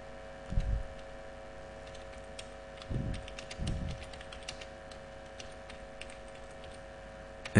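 Someone enters data on a computer keyboard in MS Word, producing soft scattered key clicks with a few muffled thumps over a quiet room hum.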